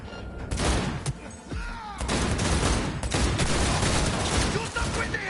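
Video game shootout with dense, loud bursts of gunfire and rapid shots crackling close by, mixed with shouted voices over the action.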